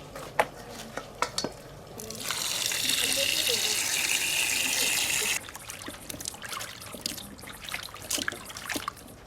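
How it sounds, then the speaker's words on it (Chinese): Chopped pig trotters are washed in a kitchen, a loud burst of running water in the middle of the clip. Clinks and knocks of the pieces being handled come before and after it, and a voice speaks briefly. "猪蹄儿剁好了，再往进洗一下"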